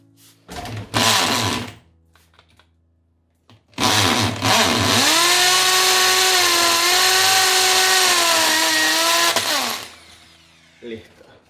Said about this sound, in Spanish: Y ahora vamos a hacer el segundo agujero.